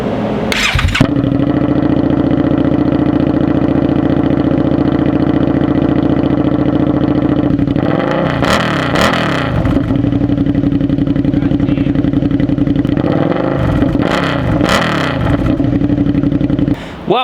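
A Suzuki SV650 motorcycle fitted with a cheap slip-on exhaust starts up close by and settles into a loud, steady idle, with two rising throttle revs breaking it partway through.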